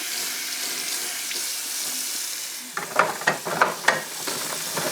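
Tap water runs steadily from a faucet into a sink while hands are rinsed, a continuous broadband hiss with splashy, uneven bursts in the second half as the hands move under the stream.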